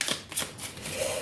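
Tarot cards are shuffled before a three-card reading, giving a short burst of quick riffling and slapping card sounds, close and crisp, with no talk.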